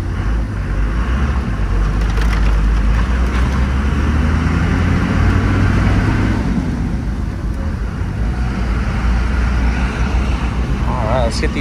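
A 2001 Dodge Ram 3500 dual-rear-wheel 4WD with a 6-speed manual and 5.9L Cummins diesel drives with the windows up, a deep steady engine rumble filling the cab under road noise, with occasional voices.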